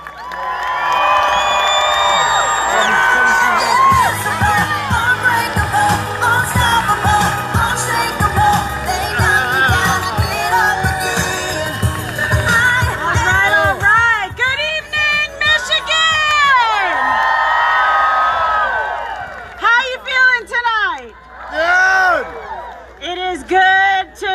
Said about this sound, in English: let's give a big round of a Harrison Township applause to Kimberly Guilfoyle